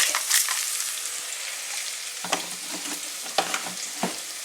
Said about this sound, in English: So I put all those spices in the oil and sort of, I don't know, they all infused in there a bit